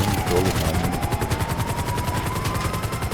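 Rapid automatic gunfire from GTA 5 Online, a dense rattling stream of shots through the whole stretch, with a whining vehicle or aircraft tone underneath and a voice briefly heard.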